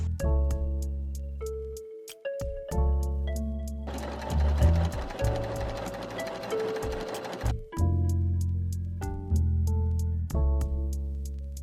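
Bursts of rapid mechanical stitching from a sewing machine, a long steady run in the middle framed by separate short clattering runs and pauses.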